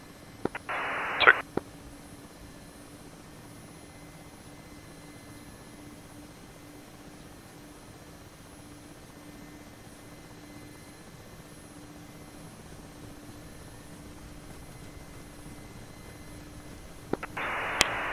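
A helicopter flight on night sling-load training gives a steady, even rotor and engine drone at a distance, with short radio squelch bursts at the beginning and end.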